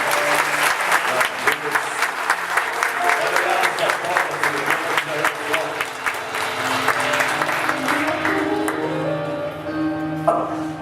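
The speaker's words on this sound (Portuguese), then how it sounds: "vocês vão aplaudindo com muita força" A church audience applauds vigorously during a certificate handover for newly baptized members, with sustained loud clapping that carries on throughout while voices talk underneath.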